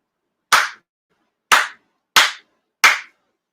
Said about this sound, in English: Four sincere claps along with officiant.